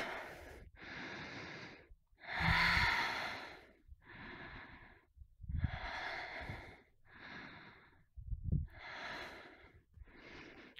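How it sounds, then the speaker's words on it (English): Slow deep breathing in and out during a yoga flow, about eight separate airy breaths in a steady rhythm, close to the microphone and fairly quiet, with no talking. "Breathe in. Breathe out. Breathe in."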